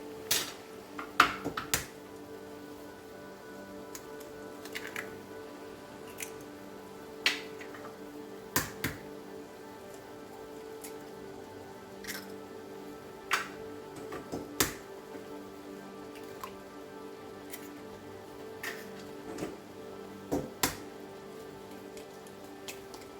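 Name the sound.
eggs being cracked into a pan of tomatoes for shakshuka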